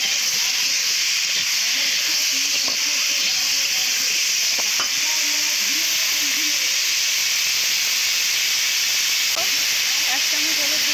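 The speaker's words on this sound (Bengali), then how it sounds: "এরপর আলু দিয়ে ভালো করে কষে নেব।" Potatoes and onions fry in hot oil in a pan, giving a steady loud sizzle and hiss with occasional stirring scrapes close by.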